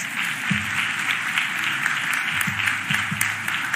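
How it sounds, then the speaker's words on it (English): A crowd applauds steadily at Philadelphia Mayor Cherelle Parker's budget address, dense and continuous clapping filling the hall. "Please give him a round of applause."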